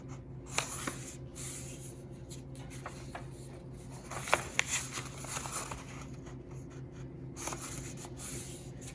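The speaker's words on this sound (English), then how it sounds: "I'm going to do the same thing to the other sheet of paper, fold it corner to corner." A sheet of paper is folded corner to corner, giving soft, close crinkles and light creasing rustles scattered over a quiet room hum, with a few sharper crisp taps as the fold is pressed down.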